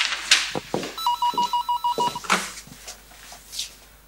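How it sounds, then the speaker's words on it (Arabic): A telephone bell rings in a quick, evenly pulsed burst of about ten strokes lasting roughly a second, clear and close, followed by faint room noise and brief indistinct movement sounds. "عبدو حبيبي رد على التليفون"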